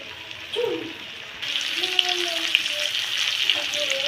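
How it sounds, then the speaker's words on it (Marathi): Paneer fries in hot oil, and a steady sizzle grows louder and denser once the pieces drop in, with small crackling pops over the hiss. "आता आपला तेल गरम झालेला आहे, याच्यात आपण पनीर फ्राय करायला टाकूया।"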